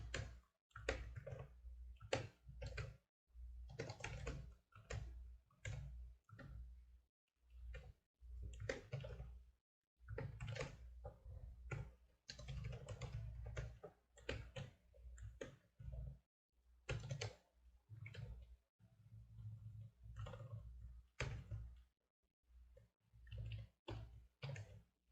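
Computer keyboard typing code in Game Maker, a long run of faint, close clicks in uneven bursts with short pauses between, no voices.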